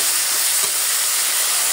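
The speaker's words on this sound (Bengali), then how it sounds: "বেগুনটা ভালো করে ভাজতে হবে" Eggplant fries in a pan for a Bengali dish, giving a steady, close, loud sizzling hiss with no break.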